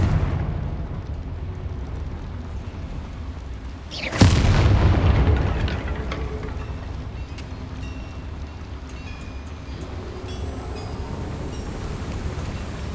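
Confringo fire spell blast in the game Hogwarts Legacy: one loud booming explosion about four seconds in, rumbling and fading into a low ambient hum.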